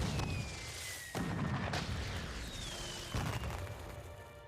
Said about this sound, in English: Firework cannons!